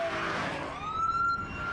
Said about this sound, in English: We are retiring the classic police siren sound